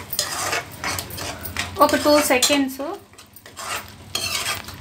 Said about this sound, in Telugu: వెల్లుల్లి పేస్ట్ వేసుకుందాం। ఒకసారి కలుపుకొని